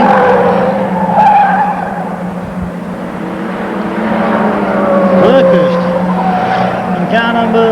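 Sedan race cars roar around a speedway circuit at Liverpool Raceway, engines droning steadily with tyre skids and squeals rising over the continuous crowd-level din, while a commentator talks over the action.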